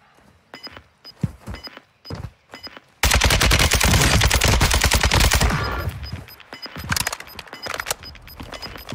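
Kastov 762 rifle fire in Warzone 2, a loud sustained automatic burst of rapid shots lasting several seconds, preceded and followed by scattered single shots and footsteps.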